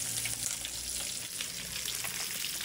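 Fish fries in hot oil in a home kitchen. The sizzle is constant and crackling, with small pops spattering through it, and there are no voices.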